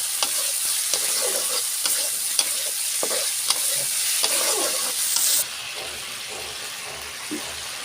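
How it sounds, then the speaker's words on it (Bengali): Boiled chicken liver frying in a pan, a loud, close sizzle with rhythmic scraping stirs for about five seconds, then the frying noise drops away to quiet background with a faint knock. "দিয়ে আমি সুন্দর করে কলিজাটা ভুনা করে নেব। নেড়ে চেড়ে কষায়ে"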